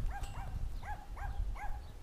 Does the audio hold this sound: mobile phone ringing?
no